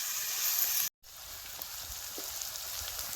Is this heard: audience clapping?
no